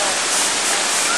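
Wailua waterfall on Kauai roars as a loud, broad, continuous rush of falling water close by, steady without pause.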